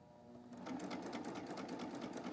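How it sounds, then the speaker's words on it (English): A serger sewing machine stitches a belt loop with a belt loop binder foot, starting after a brief quiet moment and then running at a steady, rapid, close-up whir until the end. "I am ready to start stitching my belt loop"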